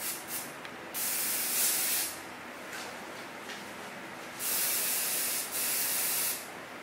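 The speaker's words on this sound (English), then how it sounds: "I'm going to go over her crown with a firmer hairspray just to make sure everything's nice and anchored" Firm-hold hairspray hissing from an aerosol can over a woman's hair at the crown, in several separate bursts of a second or two, close and fairly loud, with brief quiet gaps between.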